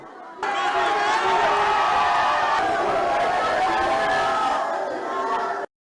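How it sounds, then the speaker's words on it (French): A crowd gives a strong ovation to a head of state after prayers in Guinea, loud sustained cheering and voices that start suddenly and hold steady before ending abruptly. "le chef de l'État a salué la foule qui l'a fortement ovationné"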